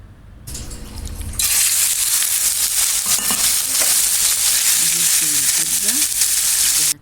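Liver dropped into hot oil and ghee in a pan gives a sudden loud sizzle that holds as a steady, bright frying hiss, with faint stirring and scraping underneath.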